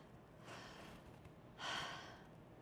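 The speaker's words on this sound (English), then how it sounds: "Take a deep breath." A person taking a deep breath, two quiet, airy inhalations with a soft rush of air, the second louder and sharper, heard alone in a still room.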